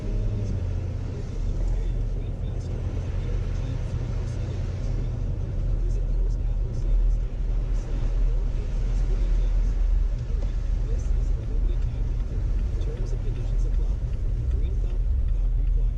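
A car travels along snowy roads during a commute, its engine and tyres producing a steady low rumble inside the cabin with a person talking over it.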